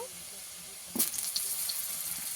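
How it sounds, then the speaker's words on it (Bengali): Eggplant and potatoes frying together in a pan start with a quiet hiss, then a sudden burst of sizzling that settles into a steady crackle. "বেগুন আর আলু আবারও একসঙ্গে ভেজে নেবো"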